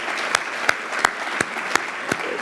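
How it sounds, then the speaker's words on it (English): Audience applause at a county education awards event as board members stand, a steady wash of clapping with a few louder, regular claps rising above it. "So board members, stand up for a round of applause."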